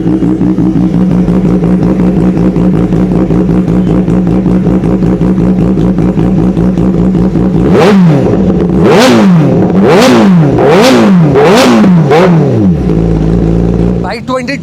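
Used 2021 superbike engine idling with a steady throbbing rumble, then blipped through five sharp rising-and-falling revs before settling back, loud and close.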